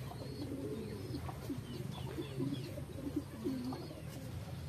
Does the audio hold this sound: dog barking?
no